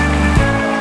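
Water pours into a pan of egg rezala, a steady, loud splashing gush close by that runs without a break and fades briefly near the end.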